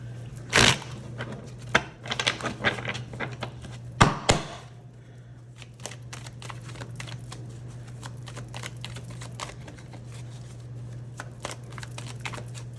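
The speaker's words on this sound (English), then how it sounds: "we got a stack, so we're going to reshuffle that" A deck of tarot cards is reshuffled by hand: sharp riffling bursts come near the start and again around the four-second mark, followed by lighter, scattered card taps and slides over a low steady hum.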